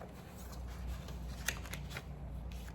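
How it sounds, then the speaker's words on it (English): Quiet riffling of playing cards being shuffled, soft papery flutters with a couple of sharper snaps, over a faint background hum. "I'm just going to shuffle these cards"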